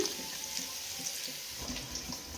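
Water runs steadily into a bowl for soaking, a soft continuous splashing with faint clinks, fairly quiet and close.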